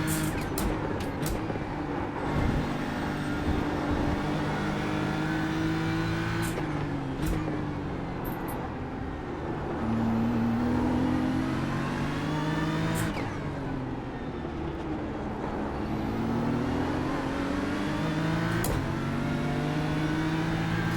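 Racing car engines in a video game practice for the Nürburgring 24 hours whine continuously, pitch rising and falling as they rev through gears, with several layered engines droning close together.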